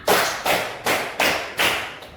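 Five loud, close hand claps land in an even counted rhythm, each a sharp burst with a brief fading tail, with no other sound around them.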